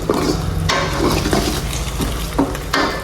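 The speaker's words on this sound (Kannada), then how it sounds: "ಒಂದು ಮೊಟ್ಟೆ, 2 ಮೊಟ್ಟೆ ಗೈಸ್ ಚೆನ್ನಾಗಿ ಫ್ರೈ ಮಾಡ್ಬೇಕು." Eggs fry in a pan with a loud, close sizzle broken by several scraping and clattering stirs of a utensil against the metal, uneven bursts of frying noise over a low hum.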